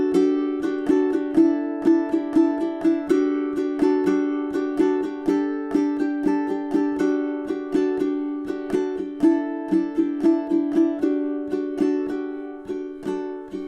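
Solo ukulele plays measures 40 to 43 of a piece, including the repeat, with a steady stream of rapidly picked notes over a sustained drone, close and moderately quiet, softening and slowing toward the end.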